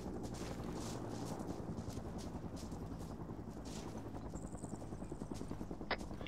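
A military helicopter in ARMA 3 drones with a steady pulsing rotor thump, continuous and fairly distant, with a few faint sharp sounds near the end.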